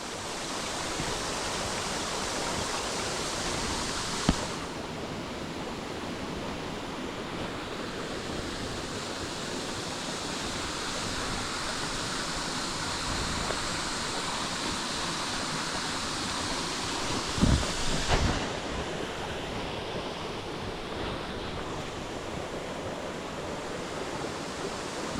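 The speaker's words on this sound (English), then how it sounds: "there's the heavy rain again" Heavy rain pouring steadily through a forest, a dense, continuous roaring hiss with a couple of brief knocks, close and even throughout.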